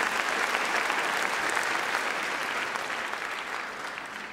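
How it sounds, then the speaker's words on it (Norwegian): A studio audience at a Norwegian TV awards show gives loud, steady applause that slowly fades over a few seconds. "Vil du ha litt mer applaus?"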